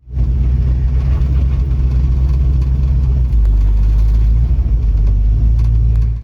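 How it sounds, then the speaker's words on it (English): A GMC Sierra 1500 Squarebody truck that sat unused for about a year runs with a loud, steady low engine rumble, idling throughout with a brief rise in intensity partway through. "Let's go see if we can get this truck fired up."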